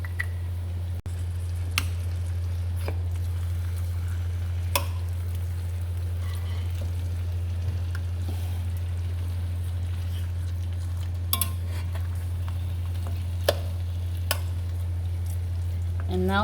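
Lamb shank rogan josh with yogurt being stirred in a pan, with soft scraping clinks and light sizzling over a steady low hum, no talk.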